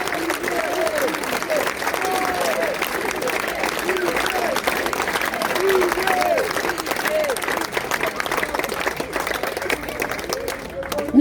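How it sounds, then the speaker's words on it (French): Sustained audience applause at a La France Insoumise political meeting in Saintes, Charente-Maritime, a dense steady clapping crowd with scattered cheers and whistles lasting throughout. "Donc, pour le travail accompli, pour le résultat, vos applaudissements pour Didier Collet."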